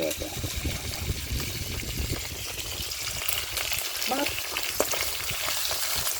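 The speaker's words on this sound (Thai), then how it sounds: "ทอดหมูทอดหมู หมูทอดกระเทียม" Pork pieces fry with garlic in a pan, giving a loud, steady sizzle and crackle throughout, broken by scraping stirs and a few faint voices in the background.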